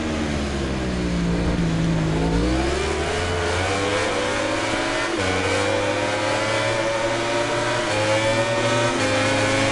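Racing motorcycle engines in MotoGP 19 howl loudly and continuously, their pitch climbing as they accelerate, dipping briefly at a gear change and then rising again.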